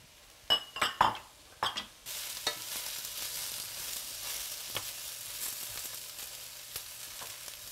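Eggplant cooking in a pan with peas, spinach and other vegetables gives a steady sizzle, broken early on by a few sharp clinks of a utensil against the pan.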